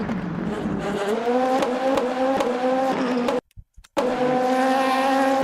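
LMP2 prototype race car in the Le Mans Ultimate sim, engine loud and steady with rising and falling revs through gear changes, a brief silent dropout near the end before the engine note returns.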